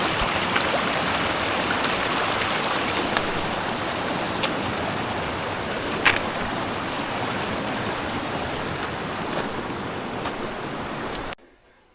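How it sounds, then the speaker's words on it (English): A river rushes steadily over rocks where hikers cross midstream in the White Mountains of New Hampshire, a loud close broadband flow that runs unbroken, then cuts off abruptly. "Welcome to the middle of the river."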